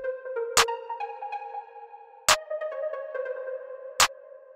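Arpeggiated synth bells programmed in FL Studio for a dance-style beat play a bright, rapid repeating pattern of sustained tones, with three sharp percussive hits landing at even intervals; no voices.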